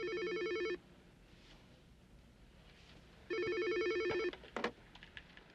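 An office telephone rings in a police drama, two close electronic rings about three seconds apart, each under a second long, with quiet room tone between them.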